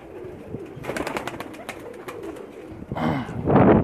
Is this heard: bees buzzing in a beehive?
no